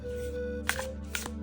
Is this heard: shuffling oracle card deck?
yes